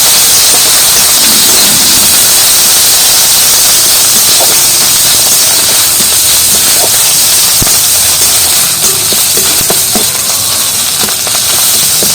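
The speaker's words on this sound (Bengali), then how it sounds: "আমি মশলাগুলো ভালো করে তেলের মধ্যে ভেজে নেব" Spices frying in oil with ginger, garlic, fried red chillies and green chillies, giving a loud, constant hiss and sizzle close by with faint scattered crackles and no talking.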